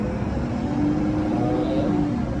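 A GAME Equipment 79FTX machine's engine runs steadily, its throttle raised from the armrest control, giving a continuous loud droning whir with a faint rise in pitch midway and no talking over it.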